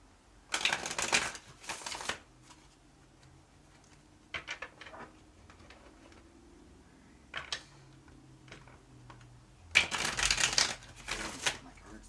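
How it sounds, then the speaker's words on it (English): A Blanco Nero tarot deck is shuffled by hand in several bursts of riffling and sliding cards, loudest at the start and end with quieter handling between, near and intimate. "we're shuffling the we're shuffling the Blanco Nero deck"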